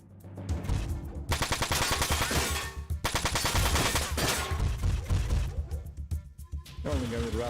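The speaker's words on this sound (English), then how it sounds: "We're only going with Raptor machine guns, which are very weak, so it doesn't matter." Raptor machine guns fire in the mech strategy game Front Mission 4, with sustained rattling bursts that cut off abruptly and restart. Game sound effects play between volleys and mechanical whirring closes the sequence.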